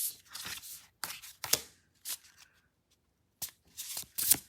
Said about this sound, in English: And finally, we will take a couple of tarot cards.